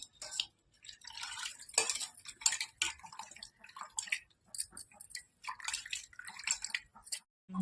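A spoon clinks and scrapes against a pot while tamarind juice is stirred into a fish curry, with light wet stirring, drips and scattered metallic taps at an irregular rhythm, fairly quiet and close.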